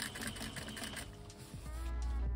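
A serger sewing machine stitches a seam on large Euro pleated drapery, giving a steady mechanical whir for about a second and a half before a deeper motor hum takes over near the end.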